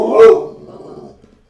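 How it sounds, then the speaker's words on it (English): A dog at home lets out one sharp close bark that trails into a whining whimper, loud at first and fading over about a second. "before I was rudely interrupted by my dog"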